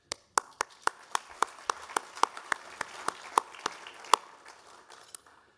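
Clapping at a business presentation comes as a sparse, evenly spaced series of sharp claps, about sixteen in five seconds, with a light steady rhythm that sounds like only a few hands, moderately close.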